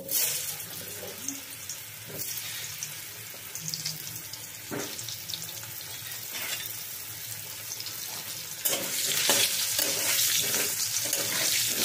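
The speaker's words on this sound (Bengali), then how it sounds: "তো প্রথমে আমি আলুগুলো ভেজে নেব" Potatoes seasoned with salt and turmeric fry in hot oil, making a steady close sizzle with crackles and a few scraping stirs. The sizzle grows louder near the end.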